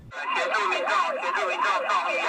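A police car siren wails, rising and falling in a fast, repeating sweep, loud and close, with no voices over it.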